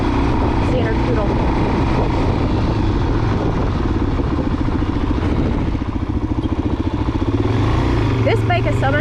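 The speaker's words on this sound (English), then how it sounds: "Street legal dirt bike" A Suzuki DRZ street-legal dirt bike is ridden, its engine a steady loud drone with wind buffeting throughout, and talk runs over it.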